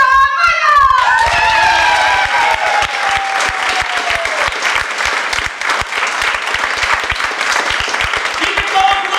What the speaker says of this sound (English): A warm round of applause for your headliner, ShawnMikael!